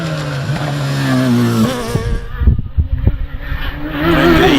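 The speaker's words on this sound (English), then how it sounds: "Now we've got Matthew Price on the hill with his rerun with the Radical SR3" A Radical SR3 sports car climbs the Harewood hillclimb, its engine revving hard and rising through gears with a brief lift mid-run, loud and close as it passes.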